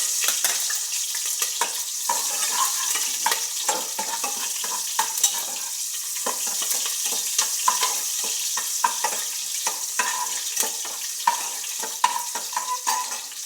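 Onions frying in oil in a pan for vegetable sagu, a continuous bright sizzle with frequent scraping and stirring clicks throughout, close and fairly loud with no talk.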